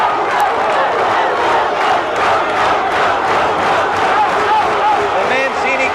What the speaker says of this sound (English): The Mancini crowd comes alive, urging on this exciting young challenger